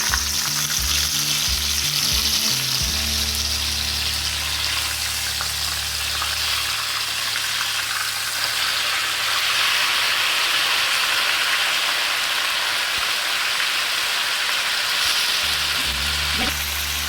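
Whole chicken sizzling and frying hard in a pan over a full flame for a Coorg-style roast, a loud, steady crackle and hiss throughout with a low hum underneath.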